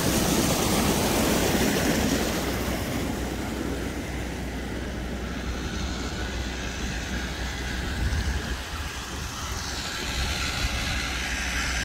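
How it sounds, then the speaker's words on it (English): Running mountain water pouring steadily, a broad constant rushing wash that stays fairly loud and close throughout, with no talking. "Sounds like running water from the mountains."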